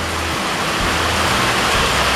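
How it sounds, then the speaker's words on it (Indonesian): Heavy rain pours down outdoors, a loud, steady, dense hiss that fills the whole clip without any breaks or voices. "Kita tidak bisa lanjut karena cuaca hujan."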